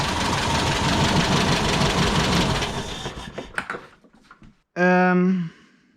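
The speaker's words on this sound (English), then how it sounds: "We got it running, we cleaned the carb, it's idling." Air-cooled VW engine from a warehouse find, freshly running after a carburetor clean, idling loudly and steadily with a rough rumble before cutting off; a short loud tonal burst follows near the end.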